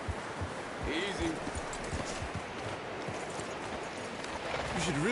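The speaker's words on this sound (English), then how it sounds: "You should really tether that horse, Arthur." Horse hooves clip-clop at a steady walking pace in a video game, fairly close and continuous, while a voice speaks over them.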